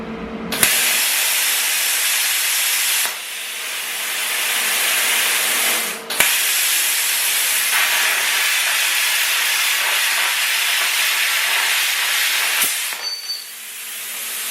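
A PrimeWeld Cut 60 plasma cutter slices through 1/2 inch steel made of two stacked 1/4 inch plates, producing a loud, sustained close hiss broken by a few brief pauses and restarts.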